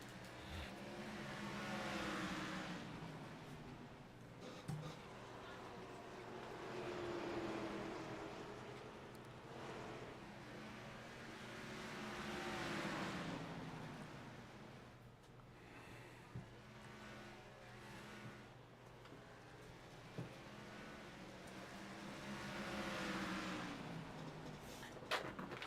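Stock cars race at North Wilkesboro in a racing video game, engines droning and swelling as they pass in repeated waves, moderately loud, with a few sharp clicks along the way.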